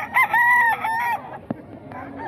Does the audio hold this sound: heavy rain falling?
no